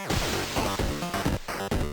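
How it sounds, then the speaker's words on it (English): Chiptune tones from the Grumbler audio plugin, a dense, buzzy stream of choppy, stepping synth notes with sharp attacks, loud and steady for about two seconds. "Grumbler is an audio plugin that makes a certain chiptune sound that I really like."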